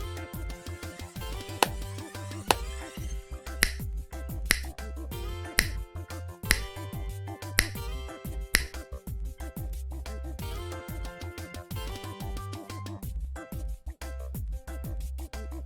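Finger snaps and hand claps counted out one by one in a primary-school maths lesson, sharp isolated cracks in a steady sequence over a soft musical bed, with no talking.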